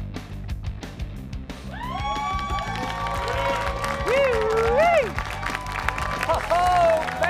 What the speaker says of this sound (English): clapping in unison right now